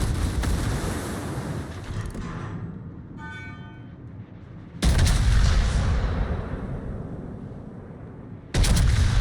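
Battleship main guns of the British Monarch fire in a naval video game, two loud booming salvos rolling out with long rumbling decay, the first fading over several seconds before the next blast.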